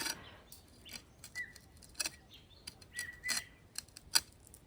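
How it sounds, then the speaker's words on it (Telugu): Small wild forest birds chirp and tweet in quick, scattered bursts, some calls sharp and close, others faint, over a quiet outdoor village background. "చక్కగా పక్షులు హమ్మింగ్స్ అన్నమాట, చిర్పింగ్స్ ఎంత బాగా వినిపిస్తున్నాయి చూడండి"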